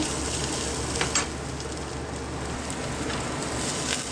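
Shredded cabbage fries with a ground paste just added to the pan. A loud, steady sizzle and crackle runs close and continuous, with occasional stirring noises.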